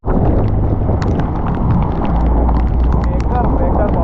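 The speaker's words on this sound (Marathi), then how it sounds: "एकदम एक्स्ट्रीम लेवलचा पाऊस आहे" Heavy rain and strong wind pound during a flood at Alibaug, a loud continuous roar with wind buffeting the microphone close up and rushing water beneath, no break across the stretch.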